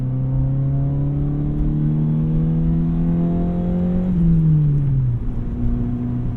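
The engine of a 1998 Honda Civic CX without VTEC hums steadily, its pitch rising gradually before shifting to a lower note, with no voices.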